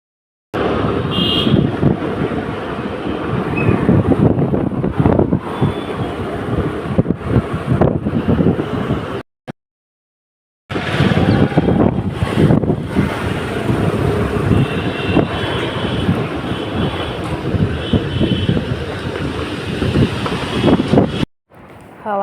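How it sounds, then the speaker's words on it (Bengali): Strong gusty wind ahead of a storm buffets the microphone with loud, continuous rumbling roar, broken by two short silent gaps, while dust blows outdoors. "হাওয়া শুরু হয়ে গেছে, দেখো কত ধুলো উঠছে।"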